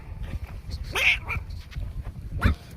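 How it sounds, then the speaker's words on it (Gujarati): A dog barks and yips a few short times, fairly close, over a steady background rumble. "હા આ રહ્યો આપણો કુતરો"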